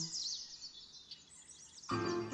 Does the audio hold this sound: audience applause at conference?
no